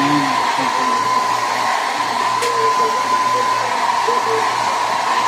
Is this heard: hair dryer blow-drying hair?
yes